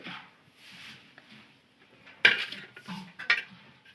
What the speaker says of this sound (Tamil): வெங்காயம் கட் பண்ணிகிட்ருக்கேன்.